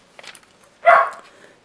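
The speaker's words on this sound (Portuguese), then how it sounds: "O Biagio tá latindo lá fora pro além." A dog barking outdoors, one short bark heard at a distance with quiet surroundings before and after.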